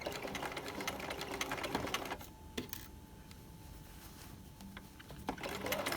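A sewing machine stitches a trouser waistband, its motor running in steady bursts with short pauses between runs, fairly close and moderately quiet, with no talk over it.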